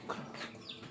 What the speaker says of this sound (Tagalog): Ito yung ating mga manok